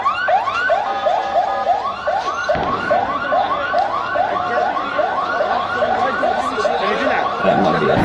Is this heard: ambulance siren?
yes